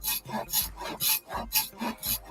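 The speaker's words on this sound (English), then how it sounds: "I am cutting a 1/8 inch brass rod" Steady back-and-forth rasping of a saw or file cutting through a thin 1/8 inch brass rod, about five even strokes with short pauses, close and fairly loud, no voices.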